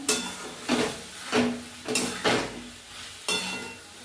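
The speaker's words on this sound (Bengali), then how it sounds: "পনিরটা দিয়ে ভালো করে এবার কষে নিলাম" Paneer cubes stir-fried in a pan with tomato and potato curry base, a utensil scraping and stirring in about six regular strokes over a soft sizzle, close and moderately loud with no talk.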